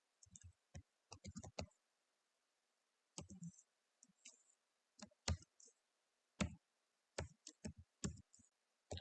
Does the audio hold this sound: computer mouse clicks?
yes